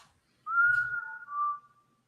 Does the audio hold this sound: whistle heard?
yes